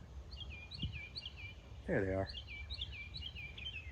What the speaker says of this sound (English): will you listen to them birds chirp?